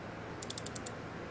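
A torque wrench ratchets while tightening a spark plug on a VW 1.8 TSI Gen 3 EA888 engine, giving about six quick, faint clicks in a short even burst over a low background hum.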